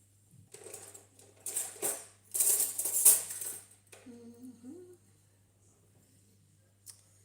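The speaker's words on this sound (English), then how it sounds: "I'm going to use a small whisk to whisk it." A small whisk beats rice flour and a pinch of salt in a bowl for Thai mango sticky rice, making several bursts of quick, close scraping and clinking. A brief voice follows, then quiet.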